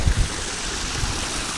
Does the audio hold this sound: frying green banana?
no